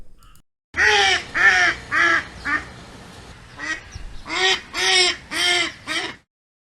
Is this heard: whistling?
no